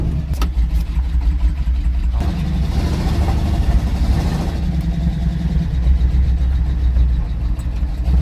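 A tired old truck engine idles with a misfire, a loud, close, rough rumble with uneven pulses and a brief rise in pitch midway.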